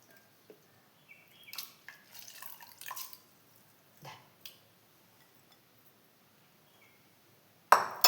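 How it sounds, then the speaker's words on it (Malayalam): Liquid drips and splashes as ingredients are squeezed by hand for aval payasam, a Kerala rice-flake pudding. Scattered soft drips and trickles spread across a quiet kitchen, then a sharp clatter comes near the end. "അപ്പോൾ ഇതിനെ പിഴിഞ്ഞിട്ട് ഞാൻ ഇതിലേക്ക് മാറ്റുന്നുണ്ട്."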